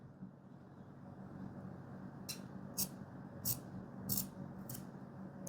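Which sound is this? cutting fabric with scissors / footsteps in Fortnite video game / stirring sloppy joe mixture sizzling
cutting fabric with scissors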